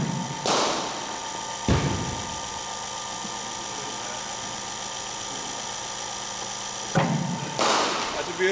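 Cricket bat striking balls during a net session, a few sharp knocks spaced several seconds apart over a steady mechanical hum, such as a bowling machine.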